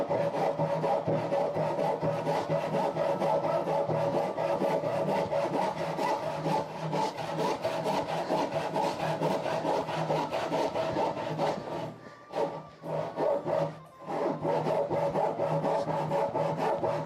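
Hand saw cutting wood for table legs, continuous close rasping strokes in a steady rhythm, pausing briefly near the end before resuming.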